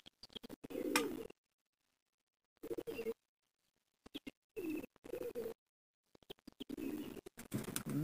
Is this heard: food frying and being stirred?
no